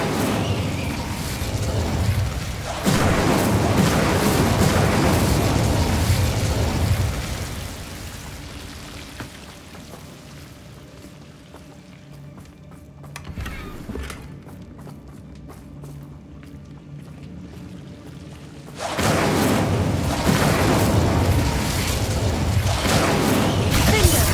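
Spell blasts and fire effects roar in the video game Hogwarts Legacy, with long, loud, rushing bursts at the start and end and a quieter, fluttering stretch in between.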